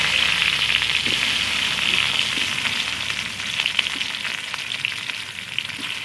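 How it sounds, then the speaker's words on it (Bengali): Potato pieces fry in hot oil, giving a dense continuous crackling sizzle close up, with a few faint clinks of a utensil and no voices. "আলুগুলো আগে ভেজে নিই"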